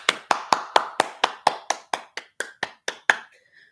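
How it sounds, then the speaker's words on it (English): A group claps in unison on a talk show, about fourteen sharp, evenly spaced claps in a steady beat that tapers off at the end, close and clear with no talk. "Well, everybody clap your hands."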